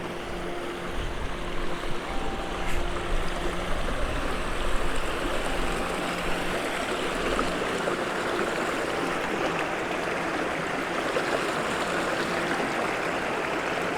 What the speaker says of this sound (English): it's all quite shallow with water running over little ledges like this